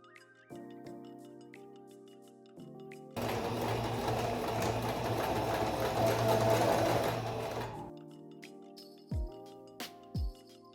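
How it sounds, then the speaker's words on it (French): A sewing machine stitches a 1 cm seam on a garment while an invisible zip goes into trousers or a skirt: about five seconds of steady, even whirring, framed by quiet clicks and handling noises. "tu vas piquer de ton deuxième repère jusqu'au bas de ton vêtement à 1 cm"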